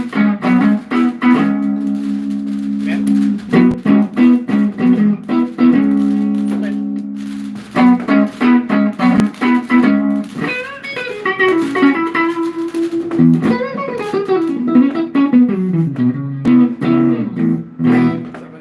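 An instrument tone played with its phase flipped: a steady run of sustained, melodic notes that rise and fall, fairly loud and close, with no talking over it.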